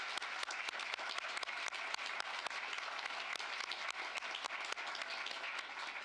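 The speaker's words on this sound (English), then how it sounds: "Please join me in giving him a round of applause." An audience applauds at a political history panel event, the clapping sustained and dense for several seconds, heard from a moderate distance with no talking over it.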